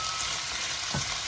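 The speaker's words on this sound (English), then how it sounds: "I'm going to stick it on the hob for a wee bit just to crisp up the outsides. So I'm going to fry these off" Chicken frying in a pan on the hob sizzles in a steady, loud hiss, with one soft stir or shift near the end.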